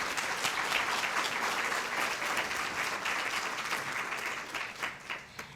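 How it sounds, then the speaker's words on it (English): Steady, full applause from an audience at a volunteer recognition luncheon, dense clapping sustained throughout and tapering slightly near the end. "So please just give them a round of applause."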